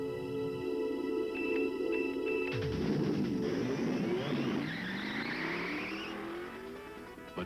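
Car engine revving and accelerating in a 1980s commercial featuring a Porsche 944 and a Volvo 740 Turbo Wagon, a loud sustained roar rising in pitch through the whole stretch, with no talk.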